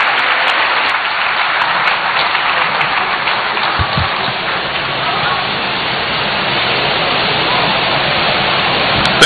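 A large town hall audience in Ghana gives a resounding, continuous round of applause welcoming President John Mahama, a dense, even roar of clapping that holds steady from start to finish.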